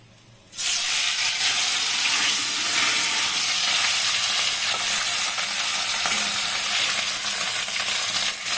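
Bengali boroli fish fry in oil with a loud, close sizzle that bursts in suddenly after a quiet moment and then holds steady and hissing to the end, with no voices.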